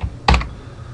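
A short burst of computer keyboard typing, a quick cluster of key presses in under half a second, close and fairly loud against a quiet room.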